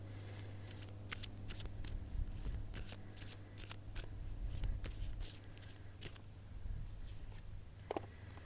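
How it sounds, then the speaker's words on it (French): Tarot cards are shuffled by hand in a quick run of crisp riffles and light slaps, the sharp flicks coming in irregular bursts over a steady low hum, with no talk. "Je bats les cartes."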